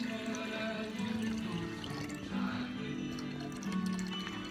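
A glass beaker is filled with water in a classroom chemistry setting: a steady pour runs continuously for a few seconds at close range, with faint clicks and drips mixed in and no voices.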